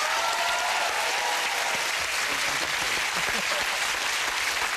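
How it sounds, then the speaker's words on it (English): Loud, sustained applause from a television game show studio audience, dense clapping filling the whole stretch without letting up. "Give them a massive round of applause."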